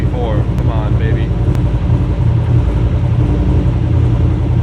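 BMW E46 fitted with an LS V8 engine idling at low RPM, a deep, loping rumble that stays close and steady throughout, with a few brief higher chirps early on.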